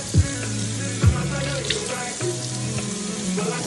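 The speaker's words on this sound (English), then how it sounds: "First, I'm gonna wet my hair." Water running steadily from a tap to wet hair before shaving, a continuous close splashing hiss with a few brief thumps and gurgles, no talking.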